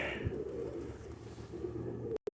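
A pigeon on a village rooftop gives a low, soft coo, faint against quiet outdoor background hum, with a couple of brief sharp knocks right at the end.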